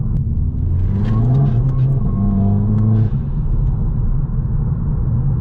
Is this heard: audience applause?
no